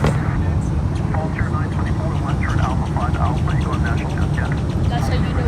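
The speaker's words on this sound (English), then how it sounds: "We got a WestJet 737 MAX 8 right over there." A WestJet Boeing 737 MAX 8 airliner passes at a distance, a steady broad roar heard through loud surrounding chatter from people nearby.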